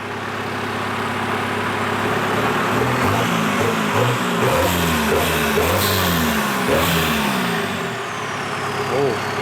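An Isuzu Dragon Eye pickup with a remapped ECU revs repeatedly at close range, its engine rising and falling in rhythmic bursts over a loud, steady background.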